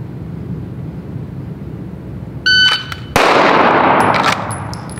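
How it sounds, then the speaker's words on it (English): A shot-timer beep is followed within a second by a single loud pistol shot, drawn fast from a holster and fired at a target six yards away, with faint ringing after. "first shot out of the holster going at speed"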